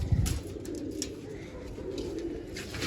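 Domestic pigeons coo softly in a loft, a low murmuring call repeating under a steady background hum with a few faint chirps.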